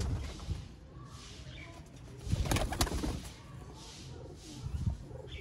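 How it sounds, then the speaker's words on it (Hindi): Jeth pigeons coo softly in soft repeated throaty calls, with light rustling and a brief flurry of movement nearby. "ये होते हैं दोस्तों जेठ वाले कबूतर और जेठी कबूतर"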